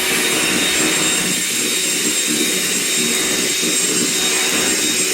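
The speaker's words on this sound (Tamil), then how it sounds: "விப்பிங் க்ரீம் ஒரு கப் எடுத்துருக்காங்க நல்லா அதை பீட் பண்ணிக்காங்க" Whipping cream being beaten for cake decoration gives a loud, constant whirring drone that holds steady from start to finish, close up and with no voices.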